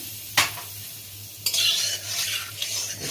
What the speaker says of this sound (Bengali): তেলটা গরম হয়ে গেছে হলুদ দিচ্ছি